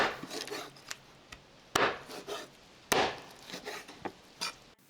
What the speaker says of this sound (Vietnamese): Đùi gà này nó hơi lớn á, nên mình chặt dọc trước rồi mình chặt ngang lại